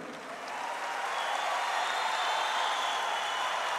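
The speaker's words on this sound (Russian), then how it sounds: "давайте наградим парней аплодисментами" Audience applause for two fighters at an MMA event after a three-round bout, a broad steady wash of crowd clapping and noise that rises quickly and holds loud and even.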